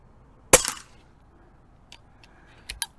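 A Umarex Notos air rifle fires a Crosman pellet, one sharp close crack followed by a short ringing tail, then a few faint clicks and two quick taps near the end, with no voices.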